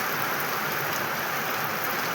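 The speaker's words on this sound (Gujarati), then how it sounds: "સરસ વરસાદ પડી રહ્યો છે મિત્રો" Gentle rain falling steadily at a temple, a soft, even hiss of drops with no other sounds.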